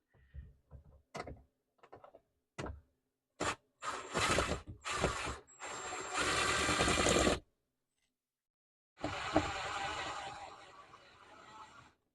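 A drill fitted with a square bit backing pocket-hole screws out of a closet panel inside a Winnebago View motorhome, in several short whirring bursts, then longer runs, close and fairly loud, separated by brief quiet gaps.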